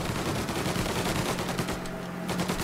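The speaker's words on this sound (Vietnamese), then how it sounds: "Hai thằng bạn mình bắn nhiệt tình phết." Rapid bursts of gunfire from allied gangsters in the Mafia game, dense overlapping shots and automatic fire rattling continuously and loudly with no talking.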